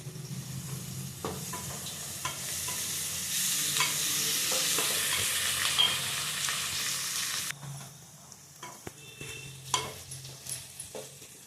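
Okra frying with curry leaves in a pan, a steady close sizzle and hiss with stirring scrapes that grows loud and dense, then drops to quieter frying with scattered clicks of a spoon.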